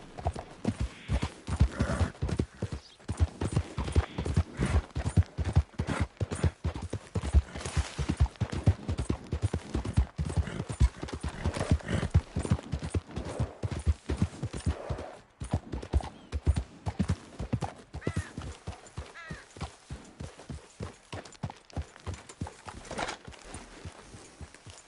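Horse hooves from the game Red Dead Redemption 2, pounding in a fast, steady galloping clip-clop that stays loud and close, easing off slightly toward the end with an occasional whinny.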